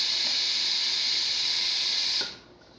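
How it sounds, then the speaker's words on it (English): A Breville XL espresso machine's steam wand, just serviced after a faulty solenoid valve, blasts a loud, steady hiss that cuts off abruptly near the end, leaving a low residual hiss. "Nice strong steam."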